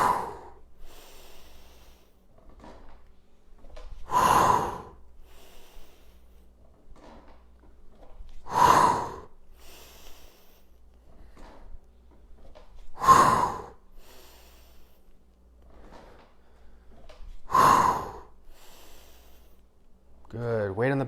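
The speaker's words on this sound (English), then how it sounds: "Exhaling on the way up." Four loud, forceful exhalations come at a steady interval of a few seconds during a bodyweight home workout, close and breathy, with quiet gaps between them.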